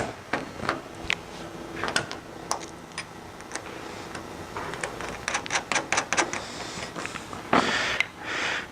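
Small clicks, taps and plastic knocks as a clamp is fitted loosely by hand onto a Maverick X3 UTV windshield, irregular and close, with a sharper clatter near the end.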